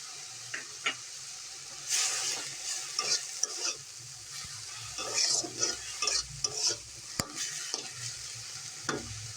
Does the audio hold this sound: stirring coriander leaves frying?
yes